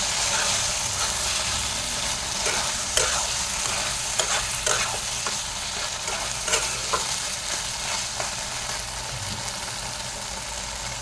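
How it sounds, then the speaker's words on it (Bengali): Spices fried with taro leaves in a pan, a constant close sizzle with irregular scraping stirs throughout and no talking. "কচুর শাকের সাথে ভালো করে মশলাটা কষিয়ে নিতে হবে, তাই মশলাটা ভালো করে কষিয়ে নেব।"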